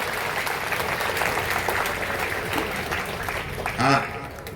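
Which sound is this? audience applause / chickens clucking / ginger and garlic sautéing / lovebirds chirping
audience applause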